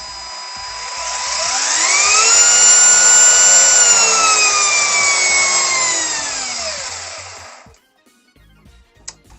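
A Tamiya TT-02 RC car's brushed electric motor whines forwards, rising smoothly in pitch, holding a steady high tone for several seconds, then winding down and cutting off, loud and close.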